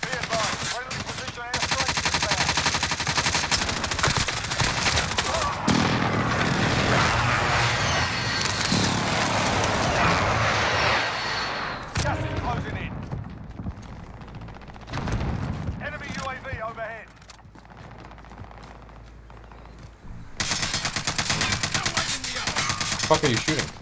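Rapid bursts of automatic gunfire and rattling shots from the video game Warzone, dense and loud almost throughout with short lulls, voices talking over the shooting.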